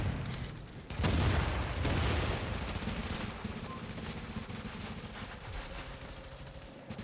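Rapid sustained gunfire in the video game The Division during a PvP match, continuous automatic bursts with booming low impacts and crackling shots, dense and loud throughout.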